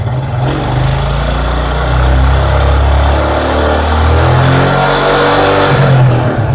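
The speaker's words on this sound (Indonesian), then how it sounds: "saya tambahkan gasnya ya ini dalam kondisi e, lampu belum menyala" A motorcycle engine revs loud and close as the throttle opens, with a steady roar that rises and holds during a charging check with a diode fitted to the voltage regulator.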